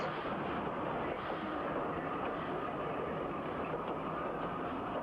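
A steam train rumbles steadily nearby, a continuous broadband roar and hiss with no pauses, filling the whole stretch.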